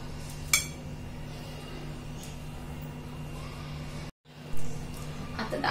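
A small spoon clinks against a glass while it is filled with falooda and mango ice cream, giving a couple of faint, sharp clinks several seconds apart over a steady background hum.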